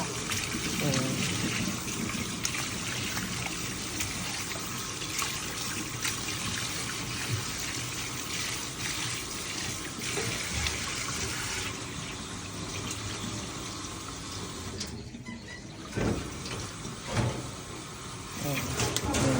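Water from a tap runs steadily while raw pork is washed, with a constant splashing rush throughout and a brief dip near the end; a voice talks over it.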